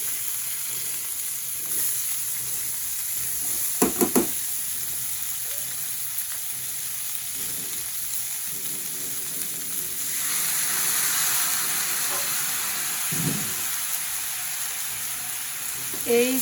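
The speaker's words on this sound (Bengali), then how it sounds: "এভাবে হালকা একটু ভেজে নিতে হবে মানে ফ্রাই করে নিতে হবে" Vegetables fry lightly in a pan for chorchori, a low steady sizzle with a few sharp stirring clatters, swelling briefly louder midway, close to the pan.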